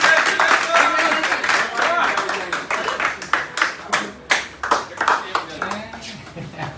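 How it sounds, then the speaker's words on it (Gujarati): Family members clapping their hands at home, a run of sharp, close claps that start dense and settle into a steady, separated rhythm, with people talking throughout. "કાપે નહીં કીજો હોય તાળી પાડી અમે."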